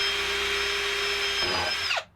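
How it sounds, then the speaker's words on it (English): A power drill bores mounting holes through a slot in a luthier's spool clamp, a close, steady high whine that dips under load near the end, then winds down abruptly to silence, with no talking. "I'll just drill a couple of quick mounting holes right through one of the slots."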